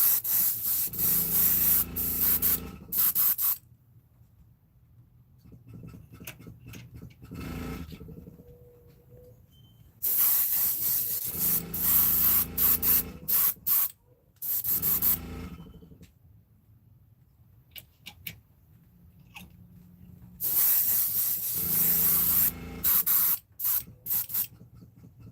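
Airbrush hissing as it sprays paint onto fishing baits, coming in several bursts of a few seconds each with quiet gaps between them, close and fairly loud, no talking.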